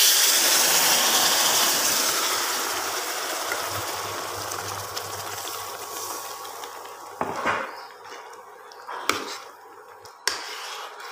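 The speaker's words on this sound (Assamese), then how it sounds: "এতিয়া পানী দি দিম মই" Hot water poured into a pan of potatoes, sesame, cumin, ginger, garlic and onion, a steady rushing pour that fades out, followed by a few sharp clinks of utensils.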